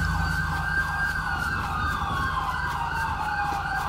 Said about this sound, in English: I hear the sirens from 30 miles away.